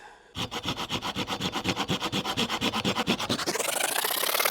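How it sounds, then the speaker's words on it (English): Steady rhythmic rasping strokes of sanding on a wooden natural slingshot, close and loud, about two strokes per second, shifting to a smoother continuous hiss near the end. "So we're going to sand a little more"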